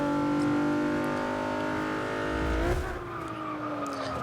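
A 1999 Mitsubishi Lancer Evo VI GSR in Forza 6 revs hard, its engine note climbing steadily, dipping briefly at a gear change, then pulling up again, loud and close.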